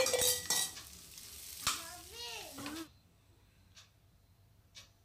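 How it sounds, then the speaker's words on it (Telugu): Fried gobi manchurian pieces are stirred into sauce in a pan, with clinks of a spoon against metal and a soft sizzle, while a voice speaks briefly before things quiet down to faint scrapes. "ఇప్పుడు ఈ మంచూరియా ముక్కలని ఇందులో వేసి బాగా కలుపుకోవాలి."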